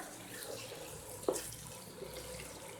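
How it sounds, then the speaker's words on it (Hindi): Water runs and splashes at low volume throughout, with a short clink partway, as a cup of water is added to a pan of fresh seasonal mixed vegetables with fenugreek in a home kitchen. "तो अब इसके अंदर मैं पानी ऐड करती हूँ 1 कप"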